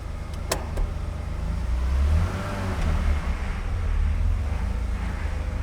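A BMW E21 323i runs and drives out for the first time after restoration, a low, steady engine rumble with a few sharp clicks near the start and mild swells as it moves.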